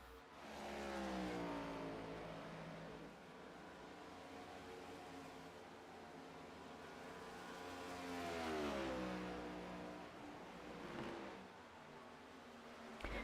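Stock cars in a racing video game cross the finish line at Pocono Raceway in a Ford series race. Several engine whines rise and fall as the cars sweep past one after another, moderately loud, with no talk.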